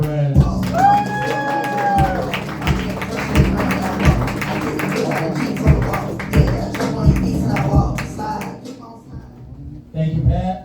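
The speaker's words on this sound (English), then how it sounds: "Put your hands together for Lorenzo Perez." A comedy club crowd claps and cheers as a comedian is introduced, with whoops and a rhythmic thumping beat under the applause, loud and lively, a voice briefly heard near the end.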